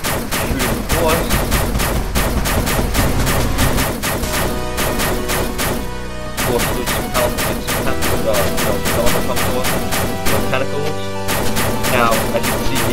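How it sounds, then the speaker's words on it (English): Gunfire from a main character shooting at a boss in a Unity video game, rapid repeated shots cutting through loud, dense game music and effects for most of the stretch with a brief quieter pause. "So you can see the main character here with the gun, shooting the boss."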